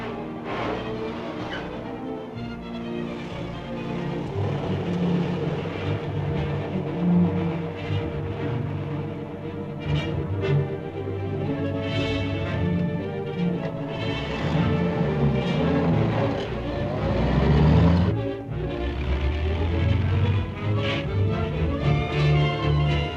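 A 1930s car drives along with a steady, droning engine hum and shifting rumble, holding fairly loud and close for over twenty seconds, swelling briefly midway as it labours, with no voices over it.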